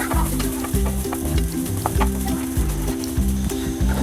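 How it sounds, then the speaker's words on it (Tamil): Broken cashews and grated coconut frying in ghee for sweet somas, a steady close sizzle with periodic stirring scrapes in a regular rhythm, no voices. "உடைச்ச முந்திரி பருப்பு, தேங்காய் துருவல் ரெண்டும் சேர்த்துட்டு நல்லா ஈரம் போகிற வரைக்கும் ஃப்ரை பண்ணிக்கலாம்"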